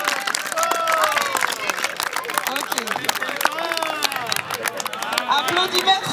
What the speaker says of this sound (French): Applaudimètre 5 sur 10.